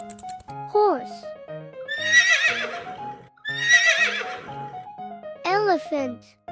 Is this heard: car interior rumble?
no